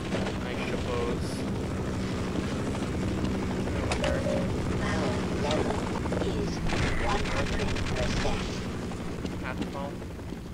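Dense, steady rotor-like helicopter roar in the game Half-Life fills the whole stretch, with bursts of gunfire and effects layered over it and a voice talking throughout.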